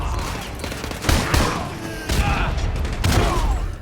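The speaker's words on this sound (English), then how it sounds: "No, ran into a nade." Grenade explosion amid gunfire in the video game Call of Duty: Modern Warfare 2 campaign, heavy bursts of blasts and shots crowding together close and loud.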